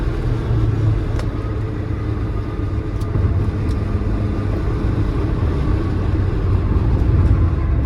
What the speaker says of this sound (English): Downshift and throttle, that's it.